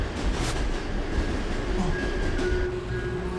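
Steady rumble inside a moving subway train car, with a continuous low roar and faint high wheel squeals drifting in and out. No one speaks.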